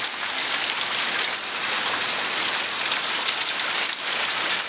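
Steady, heavy rain falls and patters on surfaces outdoors ahead of Hurricane Milton, a dense, continuous hiss at close range with no voices.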